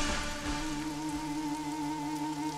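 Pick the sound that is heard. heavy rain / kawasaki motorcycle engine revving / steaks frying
heavy rain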